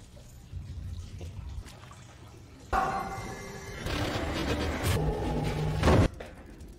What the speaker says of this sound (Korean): 또다시 물소리가 들려옵니다.